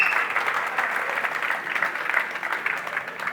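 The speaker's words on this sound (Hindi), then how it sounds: "Let's welcome with a big round of applause." Dense, steady audience applause at a TV serial launch event, a continuous crowd of clapping hands filling the whole stretch at even loudness.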